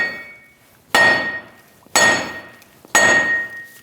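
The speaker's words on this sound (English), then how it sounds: "We've went around this with a hammer for quite a bit" Three sharp hammer blows strike a seized wheel bearing hub assembly on a 2001-2006 Chevrolet Silverado front end, evenly spaced about a second apart, each loud metallic crack ringing out with a bright tone before fading.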